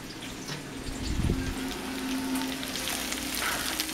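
Beans are stirred into hot oil for homemade refried beans, giving a steady close bubbling sizzle with a brief spoon scrape and a short watery splash early on, then continuous frying.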